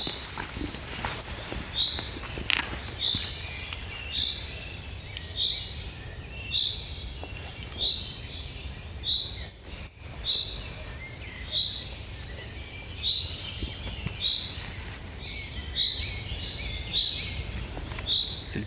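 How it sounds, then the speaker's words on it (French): A common chaffinch sings in a forest, a faint bird repeating a short high phrase roughly every second over low rumbling background noise. "Je l'ai cherché pendant longtemps celui-là, et c'est un pinson des arbres."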